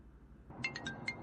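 A phone rings with an incoming call, a short run of four bright electronic tone pulses, faint and brief over a low background hum.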